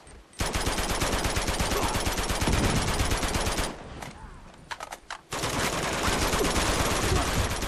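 AK-47 automatic fire in an Uncharted 2 team deathmatch on The Village map, long loud bursts of rapid shots with a brief lull of scattered single shots before the sustained fire resumes.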